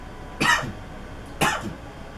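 A patient coughs twice during chest physiotherapy, two short, sharp coughs close up, about a second apart, with quiet between them.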